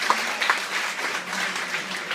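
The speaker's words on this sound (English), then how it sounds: "Give her a nice round of applause." Applause from a cruise-ship audience for a woman who has just come out of hypnosis onstage, a steady, dense wash of clapping that holds evenly without voices.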